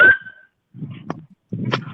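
A dog whimpers in a short, high, thin whine at the start, followed by a couple of brief, quieter yips or sniffs over low background rumble.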